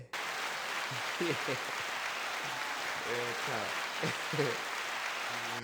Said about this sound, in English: That's second applause.